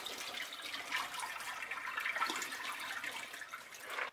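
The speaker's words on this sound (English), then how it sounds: "Let's drain that dirty water off." Dirty water is poured off a container of soaked acorns, making a soft, continuous splashing and trickling stream that runs for several seconds, fairly faint and close, with no voices.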